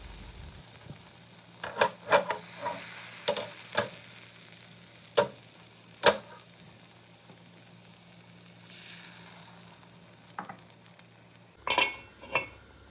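Banana, oat, egg and blueberry pancake batter cooking slowly in a pan: a soft, steady sizzle runs under scattered clinks and scrapes of utensils and cookware, with a sharper clatter near the end.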